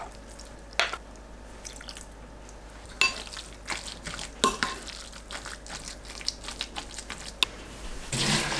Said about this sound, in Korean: 두부에 국간장 2큰술 넣고 섞어주세요